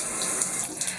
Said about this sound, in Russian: Вот такой вот кран обычный стоит.